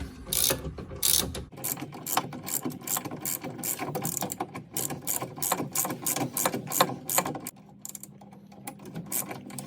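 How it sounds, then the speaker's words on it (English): A 17 mm socket wrench tightening the sway bar link nuts on a Porsche 986 Boxster gives a rapid, continuous run of ratcheting clicks up close, steady and fairly loud, easing off near the end. "we got a 17 mil socket and a 17 mil wrench, and we will tighten them up"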